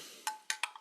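A spoon clinks against a drinking glass while a drink is stirred, four or five bright, close taps in a quick, uneven rhythm.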